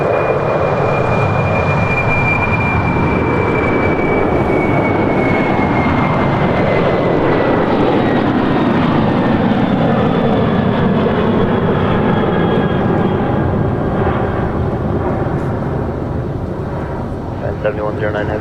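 Airplanes at Los Angeles International Airport, a continuous loud engine roar that slowly shifts in pitch as an aircraft passes near, sustained throughout with no break.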